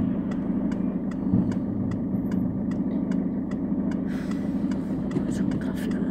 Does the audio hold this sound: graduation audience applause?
no